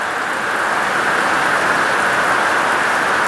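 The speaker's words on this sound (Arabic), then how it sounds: "صوت المطر جميل ما شاء الله تبارك الله." Steady, even rain falls close by, a dense continuous hiss of drops on surfaces with no breaks and no voices.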